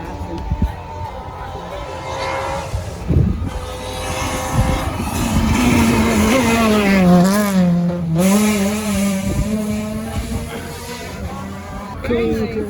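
Citroen rally car at a Barbados rally event revving and rising in pitch as it races past, engine whine sweeping up and down, with spectators talking and a crowd murmuring around it.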